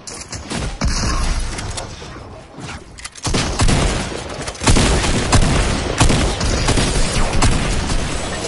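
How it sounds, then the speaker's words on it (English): Gunfire in a PlayStation 4 shooter game, with dense, loud bursts of rapid shots and booming impacts continuing almost without a break, briefly dropping near the middle before resuming at full intensity. "are these kids shooting from the bush?"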